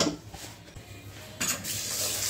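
Uncooked rice being washed by hand in a pot of water, a soft wet swishing and gentle clinking against the pot, faint and close, swelling louder in the last second.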